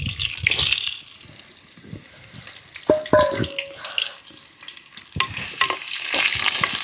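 Raw mango pieces dropped into hot oil with dried red chillies and curry leaves for mango pachadi, cooked outdoors on a farm: steady close sizzling with scraping stirs and clatter of a spoon against the pan.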